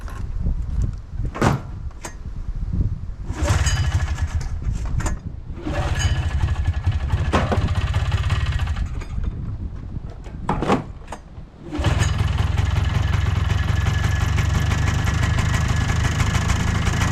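An old snowmobile, just back from routine maintenance, is handled with clunks and knocks before its small engine catches and settles into a loud, steady idle that runs for several seconds, close by and without talk.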